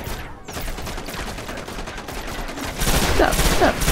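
Steady rattling gunfire in the video game Destiny runs throughout, swelling louder near the end as a heavier volley kicks in close by.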